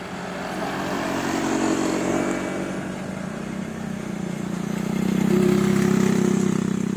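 A Honda XRM FI 125 motorcycle engine hums steadily at a mid pitch and swells somewhat louder toward the end as it keeps running.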